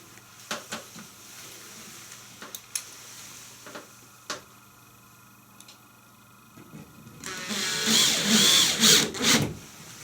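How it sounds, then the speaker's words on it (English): Power drill running plasterboard screws into a C-FIX repair band, first a few scattered clicks and taps, then a loud close whirring drive for the last couple of seconds, no voices. "then you can run your plasterboard screws in"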